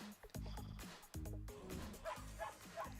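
Video game character voiced barking like a dog, several short woofs and yips in uneven bursts, near and fairly loud, a human voice imitating the sound.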